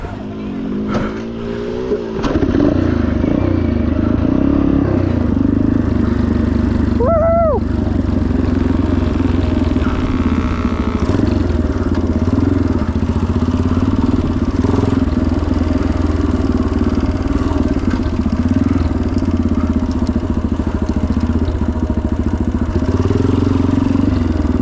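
A vintage Yamaha TT500 motorcycle engine drones continuously, loud and close, during a cross-country race, with the throttle rising and falling steadily under occasional talk.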